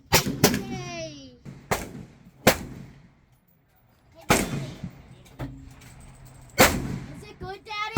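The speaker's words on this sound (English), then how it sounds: "we're shooting today the Radical Firearm AR-15" A Radical Firearms AR-15 rifle fired outdoors at a pumpkin rigged with Firebird exploding targets: about six loud, sharp reports at irregular intervals, each ringing out briefly, with a child's and an adult's voices heard between shots.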